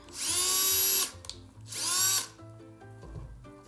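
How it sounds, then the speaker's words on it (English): A power drill bores a hole into a pumpkin in two loud whining bursts of about a second each, close up, followed by quieter handling and a low hum. "The hole drilled."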